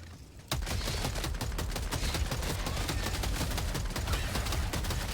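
A sentry turret in Helldivers 2 opens up after a brief pause, unleashing loud, sustained rapid automatic fire that continues without letup, dense and close.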